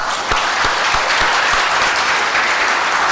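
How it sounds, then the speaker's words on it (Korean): A church congregation clapping steadily, a dense wash of applause that holds at a constant level for the whole moment. "우리 축복하며 박수 한번 하겠습니다."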